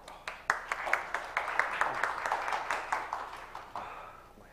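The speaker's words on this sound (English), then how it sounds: "Let's give a round of applause for Mr." A small audience at a business presentation event gives a fairly faint round of applause, with distinct, fairly steady claps close together that fade toward the end.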